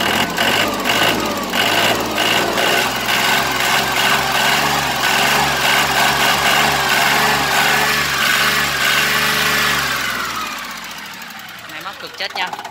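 An Iseki TA312 tractor engine runs loud and close with a steady knocking rumble, holding an even idle for most of the stretch before dropping away near the end.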